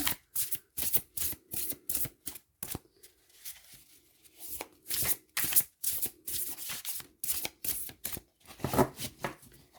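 A tarot deck is shuffled by hand up close: rapid bursts of card riffling repeat in a steady rhythm, with a short pause midway and no talking.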